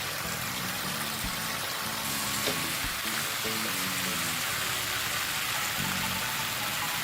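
Bok choy leaves being stir-fried with minced chicken and tofu in a wok, a steady loud sizzle and hiss with occasional soft clanks of a spatula throughout.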